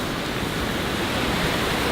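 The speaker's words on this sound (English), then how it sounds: "Waves are awesome over there, out there on the reef." Steady broadband roar of ocean waves breaking out on a reef, a continuous wash with no distinct individual crashes, no voices.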